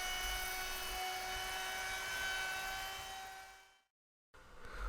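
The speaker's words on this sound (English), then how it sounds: "grab your router, and we're going to put a round over on the bottom edge on the inside of the stringer" Wood router rounding over the bottom inside edge of a boat's sheer stringer, a loud steady high whine that fades out, stops briefly, then restarts near the end.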